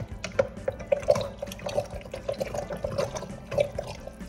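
Thin, watery chili bubbles and gargles in a pot with irregular wet pops and blurps over a soft, constant simmer, close and fairly quiet throughout.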